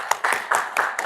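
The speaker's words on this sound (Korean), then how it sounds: "박수 올리겠습니다" A congregation at a Sunday church service in Gwangju, South Korea, claps together in close, regular bursts, filling the room with fairly loud applause that has no voices over it.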